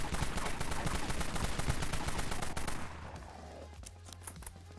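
Rapid automatic XAK rifle fire in the video game Dead Frontier sounds as a loud, dense stream of crackling shots lasting about three seconds, followed by a lower, quieter hum of the game with a few faint pops.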